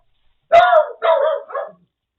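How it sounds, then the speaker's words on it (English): A dog barks three times in quick succession indoors, close and loud, each bark shorter than the last, with silence before and after. "The one thing that always happens during one of our videos, the fucking dog barks."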